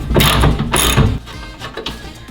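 A hand ratchet loosens a hood strut bolt on a Nissan 350Z, two quick bursts of clicking pawl strokes followed by fainter scattered clicks, close and clear with no talking.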